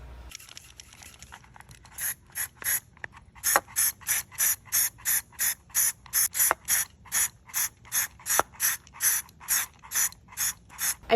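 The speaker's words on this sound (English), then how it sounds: "I'm going to spray paint these with some Krylon in Brilliant Gold." Krylon Brilliant Gold spray paint applied to Dollar Tree craft pieces in short, hissing bursts. They repeat in a steady, even rhythm close to the can, alone and without talk.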